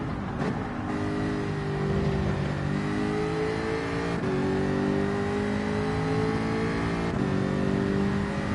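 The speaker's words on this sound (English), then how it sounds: "Gonna start driving the Ferrari on that track and practice" A Ferrari engine revving on a race track in a racing game, a strong steady whine rising and falling in pitch as it accelerates through gear changes, loud and close with no talk.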